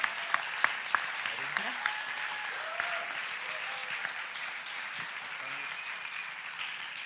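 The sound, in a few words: audience applause for a startup award winner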